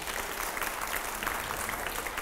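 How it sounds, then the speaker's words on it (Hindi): An audience at a Delhi political news programme applauds with steady, close clapping from many hands, dense and continuous throughout the short burst with no voices. "जोरदार तालियां हो।"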